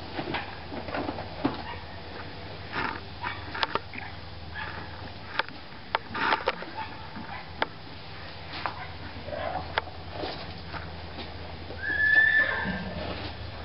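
A horse named Nika, a mare, whinnies faintly and close by amid sniffs and scattered thumps of movement, with one brief high-pitched call near the end standing out over a quiet stable-like background.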